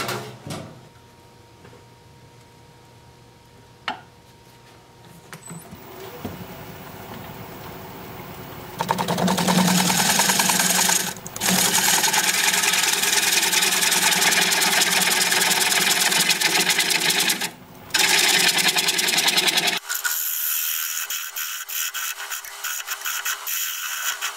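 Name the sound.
wood lathe turning a bark-on bowl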